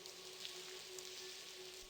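Rain falls steadily in the Blackwell Convergence video game, a soft, even hiss of drops that stays faint and unbroken for the whole moment.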